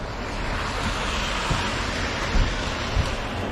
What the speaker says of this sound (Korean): 비가 더 내리네.